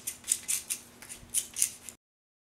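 A pencil scrapes in quick, crisp bursts inside a wide handheld sharpener, about seven gritty strokes in two seconds, close and alone before cutting to silence.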